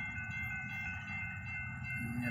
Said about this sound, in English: So the train is coming.